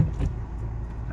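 A car pulls away in first gear during a driving lesson, its engine a low steady rumble close by, with no voices over it.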